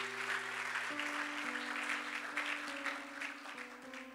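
A church congregation claps and applauds the Lord, a dense, sustained wash of many hands over steady sustained keyboard chords that shift pitch every second or so.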